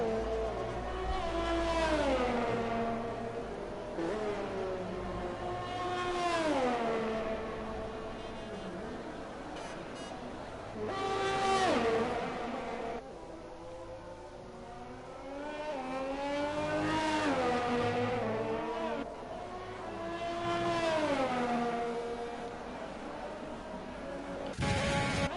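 Race car engines in an esports sim racing game at Interlagos-style Brazil circuit, a single car on a hot lap revving hard through the gears, pitch rising and dropping repeatedly with each shift and braking zone, loud and close.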